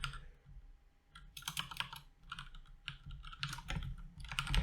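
Keys on a computer keyboard clatter in quick irregular bursts of close, crisp taps, with short pauses between runs of typing.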